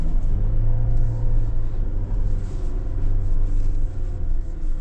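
A 2025 GWM Tank 300 2.4 diesel crawling off-road in 4L mountain mode with diffs unlocked, its wheels spinning, gives a loud, steady low engine drone and rumble that runs unbroken with no talking.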